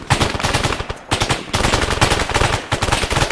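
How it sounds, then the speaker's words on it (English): An M249 machine gun fires in Arma 3, with dense, rapid bursts of loud automatic gunfire crackling almost without pause, one short gap breaking the stream. "I still hear some firing coming from the direction of that checkpoint."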